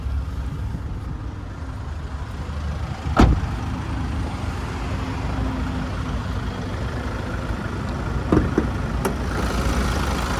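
2018 Kia Carnival S engine idling with the bonnet open, a steady low rumble heard close up, broken by a couple of sharp knocks or clicks.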